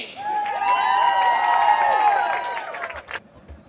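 A crowd at an NPSL Southeast football match cheers after a free kick goal, a loud, sustained swell of voices and whistles that fades out near the end, with commentary in the mix.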